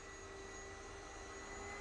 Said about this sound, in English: the whole idea with Garry was to make a vacuum that was so powerful with enough suction power